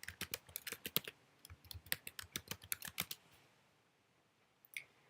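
Rapid keystrokes on a computer keyboard entering a web address, about three seconds of quick, uneven clicking up close, then quiet with one last key press near the end.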